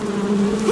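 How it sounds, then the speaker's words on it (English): Hornets buzz in Metal Gear Solid 3 as a steady, close, droning hum with no break and no talk. "Oh god, they're hornets."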